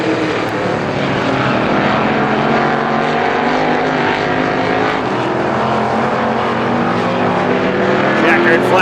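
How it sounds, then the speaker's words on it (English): Race cars lapping a speedway during a heat race roar loudly and continuously, engines droning with a steady, dense mechanical rumble close by, while an announcer's voice runs under the din. "Trip around the Speedway for Duvenet in the 78D."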